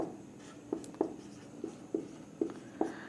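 A pen scratches out a few short strokes on paper, quiet and close, in irregular separate bursts with pauses between them.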